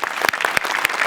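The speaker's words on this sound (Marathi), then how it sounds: "हॅट्स ऑफ, जोरदार टाळ्या" Dense applause from a studio audience at a Marathi comedy stage show after a live performance, a steady crackle of many hands clapping at once, close and loud, with a few sharper claps standing out.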